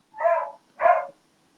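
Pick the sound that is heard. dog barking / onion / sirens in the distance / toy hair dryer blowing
dog barking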